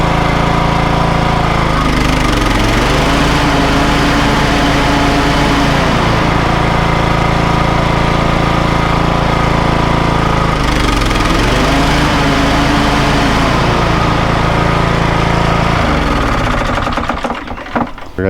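A loud, close lawn mower engine runs continuously at a steady drone, its pitch dipping and recovering twice as it labors, then cutting out at the end.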